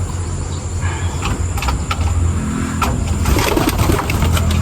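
Blue bar and checkered pigeons coo close by in a loft, their low repeated coos layered with some rustling and background noise, loud and with no voices.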